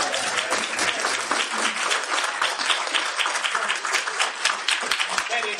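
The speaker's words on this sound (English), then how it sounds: "they can't stop us from clapping" An audience at a campus book release event claps together in dense, steady applause that holds evenly for about six seconds, close and fairly loud, with no one speaking over it.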